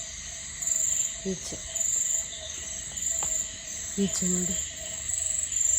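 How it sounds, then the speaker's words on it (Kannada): Frogs calling in a monsoon forest, a steady high-pitched trilling chorus with brief low croaks breaking through, as a person talks over it. "ನೋಡಿ ಇಲ್ಲಿ ಕಪ್ಪೆ ಕೂಗ್ತಾ ಉಂಟು ಎಷ್ಟು ಜೋರು ಗೊತ್ತುಂಟಾ"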